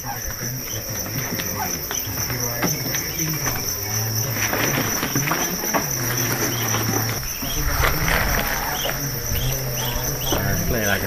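Crickets kept for harvest chirp in a dense, continuous chorus, with a high steady trill over rustling and patter, loud and close throughout.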